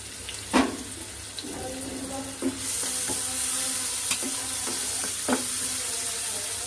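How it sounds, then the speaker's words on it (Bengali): Chopped onions and green chillies fry in oil in a small home kitchen, a steady sizzle broken by occasional stirring clinks and scrapes of a utensil. "এই সাইডে আমার পেঁয়াজটা ভাজা হোক।"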